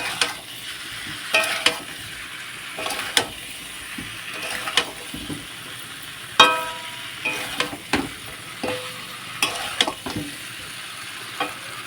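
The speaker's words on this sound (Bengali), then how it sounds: "তো আলুগুলো দিয়ে কিন্তু ভালোভাবে নাড়াচাড়া করে নেব" Fried potatoes stirred into a sizzling spice masala in a pan, a steady sizzle punctuated by a dozen sharp scrapes and clatters of the spoon at irregular intervals, close and alone without talk.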